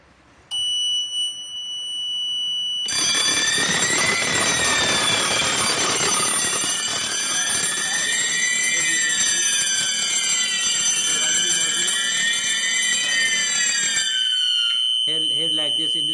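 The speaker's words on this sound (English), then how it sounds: "Now we will trigger the zone to check the address of the module in the fire alarm panel." A fire alarm panel sounding after a zone is triggered, an insistent warbling electronic alarm with steady high beeping tones that runs loud for about eleven seconds and then cuts off.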